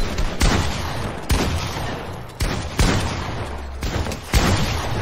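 Bursts of Fortnite gunfire in a zone wars battle, several loud volleys of shots with brief gaps between them, close and punchy.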